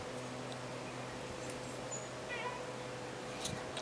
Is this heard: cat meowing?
yes